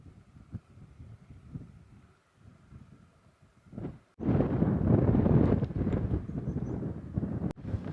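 Wind on a Yorkshire hillside on the Pennine Way between Hawes and Tan Hill: a soft, gusty rustle at first, then loud, roaring buffeting against the microphone that continues steadily to the end.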